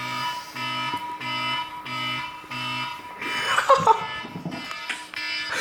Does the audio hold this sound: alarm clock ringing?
yes